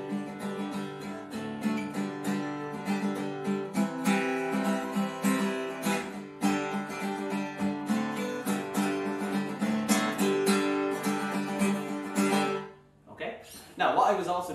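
Acoustic guitar strummed through the verse of Red Haired Mary in a steady pattern, loud and close, running alone for about thirteen seconds before a brief pause and a final burst of strums.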